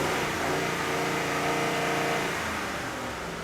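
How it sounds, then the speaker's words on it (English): A car engine revs at wide open throttle during a lab scope test, a loud, sustained rising roar held close-up for several seconds before easing slightly, with no talk. "So Mark's going to go ahead and go wide open throttle here."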